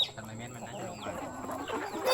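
Chickens clucking at a hill-farm in rural Thailand, a busy mix of short clucks close by with a faint high bird call, under ongoing outdoor background noise.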